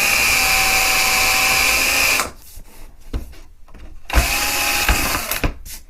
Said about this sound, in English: we need to make some pilot holes here in the corner for the jigsaw